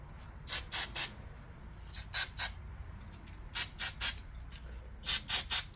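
Short bursts of aerosol brake cleaner sprayed into the crevices of a 2004 Honda Pilot EX-L front brake caliper, four groups of sharp hissing spurts at close range with quiet pauses between.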